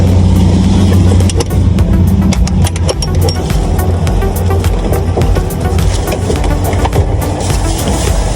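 A car engine runs steadily while its gas valve is tested, a loud continuous rumble with scattered clicks and rattles on top, close to the listener.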